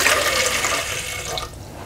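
Water is poured from a container into a cooking pot in a village kitchen, a steady close splashing rush that runs for nearly two seconds and thins slightly toward the end, with no voices.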